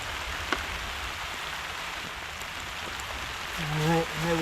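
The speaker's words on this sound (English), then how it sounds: "And here comes the rain." Rain falling on a dugout shelter makes a steady, hissing patter close by, and a voice speaks briefly near the end over the rainfall.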